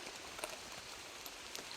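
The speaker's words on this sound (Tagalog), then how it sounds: "Abutan na po tayo ng ulan tol" Steady rain falls outdoors in a broad, even hiss, with a few sharper drops standing out at times; no one speaks over it.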